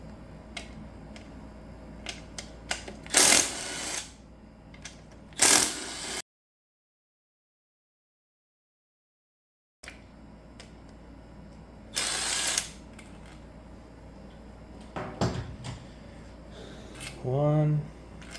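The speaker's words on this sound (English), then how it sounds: "we'll zap out these pump bolts" A power tool zips out the pump bolts during a teardown of a Ford 6R80 automatic transmission that had lost 4th, 5th and 6th gears: several short, loud buzzing bursts spaced seconds apart, with a silent gap midway and light metallic clinks between.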